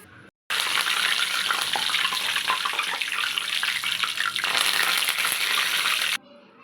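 Vadiyalu, sun-dried fritters made with rice, fry in hot oil with a loud, continuous bubbling sizzle. It starts abruptly after a brief quiet moment and cuts off near the end.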